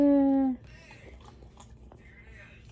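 A cat gives one loud, clear meow, then falls silent against quiet room background.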